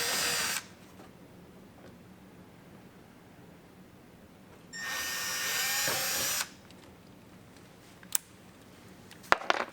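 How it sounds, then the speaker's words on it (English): Two bursts of a power drill boring pilot holes to mount Rokblokz fenders and mud flaps on a 2018+ Arctic Cat Wildcat XX side-by-side, each a steady loud whine of a couple of seconds, followed by a few sharp clicks near the end. "drill our pilot holes like so"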